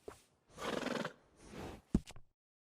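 A horse in Red Dead Redemption 2 neighs and whinnies in two quiet drawn-out bursts, followed by a short snort, with no talk.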